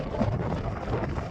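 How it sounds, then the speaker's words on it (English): Steady low rumbling buffet of wind across a microphone near a Colorado 14,000-foot summit, roughly 20 mph gusts, loud and continuous, with no voices. "It's windy up here, so please excuse the audio."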